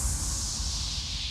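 An impact effect in a trance track, a dense booming low thud with a broad noisy wash above it that sustains loudly and evenly throughout.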